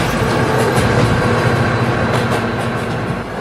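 A passing train in a video game rolls by loudly and steadily, with rumbling wheels and clickety-clack on the rails filling the whole stretch, alone with no talk.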